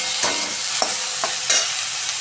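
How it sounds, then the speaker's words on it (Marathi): Washed bitter gourd tossed into a pan with chili, coriander-cumin powder and oil and stir-fried, giving a bright steady sizzle with several quick scraping stirs, close and loud, no voices. "त्याच्यामध्ये स्वच्छ धुवून घेतलेलं कारलं घालणार आहे."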